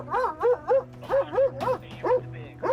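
A police sniffer dog trained to detect cannabis gives a run of close, loud yips and whimpering barks in a quick, uneven rhythm, with a low steady hum underneath.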